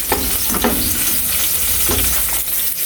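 Garlic sautéing in a pan for a bitter melon dish, with a loud, steady sizzle and frying crackle and some stirring scrapes, close and continuous.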